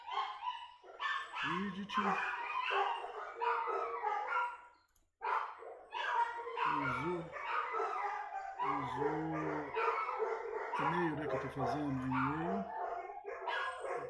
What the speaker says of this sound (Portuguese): esse cachorro tá latindo